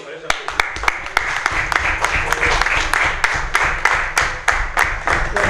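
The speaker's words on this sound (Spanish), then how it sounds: "un aplauso para ella" An audience claps steadily at a municipal award ceremony honoring girls' hockey players, the sharp claps dense and continuous while a voice speaks over them.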